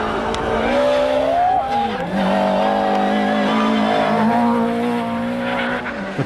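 Proton 1600cc rally car at the 2001 Barbados Rally Carnival, engine held loud and close with a strained, continuous drone whose pitch drops around two seconds in and then climbs steadily, with a faint hint of tyre squeal.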